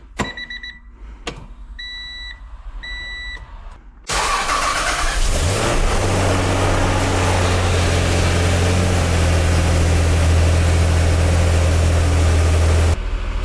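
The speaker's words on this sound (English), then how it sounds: "time to start the engine and get all the fluid circulating" A few soft electronic chimes, then a supercar engine cranks and roars to life loudly, settling into a deep, steady idle that rumbles on.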